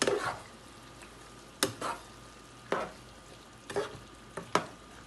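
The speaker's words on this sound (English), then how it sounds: "So now I'll be adding my butter beans, my Grace butter beans, into my chunks." Curried veggie chunks cooking in a pot as Grace butter beans go in, heard as a handful of spaced spoon scrapes and clunks over a soft, steady simmering hiss, close by and fairly quiet.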